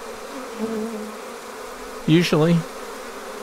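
A honeybee swarm hums in a low, steady drone throughout, with someone briefly speaking over it near the end.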